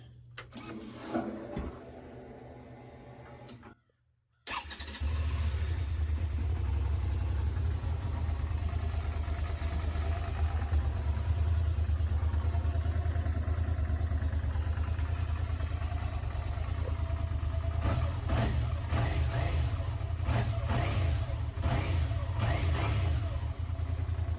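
After a few seconds of clatter and a brief pause, a Suzuki SV650 track motorcycle engine fires up and runs with a steady, close, low rumble.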